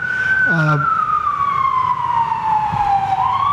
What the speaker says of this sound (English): Maybe someone can develop a technology so we don't have to hear sirens so much.